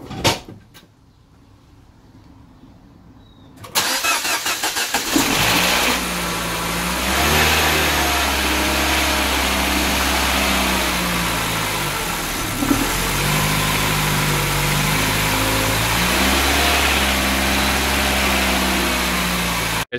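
A clunk, then a 2007 Mini Cooper engine cranks and catches after an oil and filter change, settling into a loud, steady idle with a couple of small revs, close by.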